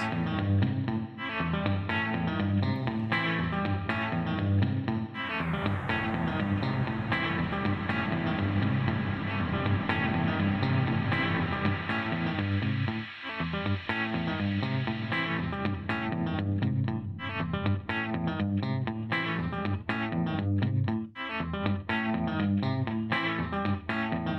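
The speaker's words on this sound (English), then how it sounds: "And then we have reverb, which is actually pretty good." A New Sonic Art Granite synthesizer plays a sustained, dense tone with a washed, echoing reverb tail, steady and loud throughout, with no voices.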